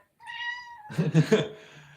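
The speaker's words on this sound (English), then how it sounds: "here's my kitty" A pet cat gives one drawn-out, close meow, followed by a rougher, louder burst of yowling vocal sound that fades away.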